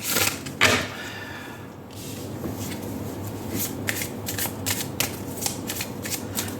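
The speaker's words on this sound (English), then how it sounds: "Now we're going to pull out one card from the Romance Angels" Cards from a Romance Angels oracle deck shuffle and slide against each other close by, a steady papery riffling with a few sharper flicks, and no talking over it.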